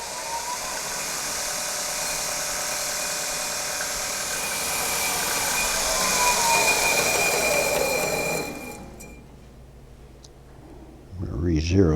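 A grinding machine spins up and feeds into a precision-ground wheel, giving a steady, loud broadband whir with a faint rising whine that cuts out near the end, followed by a brief clunk.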